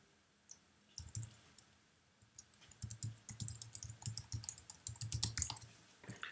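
Someone types on a computer keyboard, starting with a few scattered key clicks and then settling into a quick, steady run of close, crisp keystrokes.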